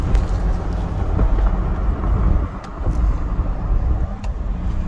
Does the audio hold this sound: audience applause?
no